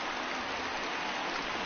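Steady rain falls during a baseball game in MLB The Show 2019, a dense, even hiss of water that holds without pause and without any voices.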